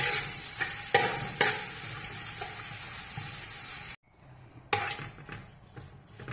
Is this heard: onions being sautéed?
yes